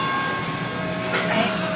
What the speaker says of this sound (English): So we just boarded this tram.